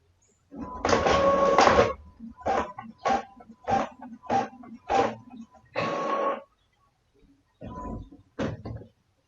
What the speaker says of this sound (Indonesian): Kita coba cetak quick print. Oke, kita tunggu.